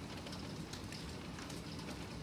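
Pea-sized hail pelts surfaces outdoors in the Piedmont Triad, making a dense, steady, hissing patter of countless small impacts without pause.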